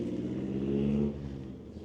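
Car engine with a titanium exhaust, picked up by a microphone mounted in the trunk right behind the exhaust; a short steady rev holds a low tone, then eases off and fades slightly.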